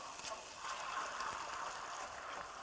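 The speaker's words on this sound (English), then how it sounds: "And I'm just going to pour the sauce on." Sauce poured into a hot pan sizzles and bubbles steadily, a continuous hissing splash with no talking.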